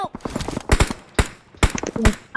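Bursts of gunfire from the BGMI (PUBG) mobile battle royale game, four or five loud broadband volleys spread across the moment, with faint game sounds between them.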